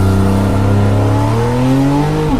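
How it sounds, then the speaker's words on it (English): A 2017 Porsche 911 GTS with a sports exhaust and central tailpipes revs up loudly and close, its engine note climbing steadily over a couple of seconds before easing off. "We believe the sports exhaust system with central tailpipes and increased idle speed is particularly well made and emotive."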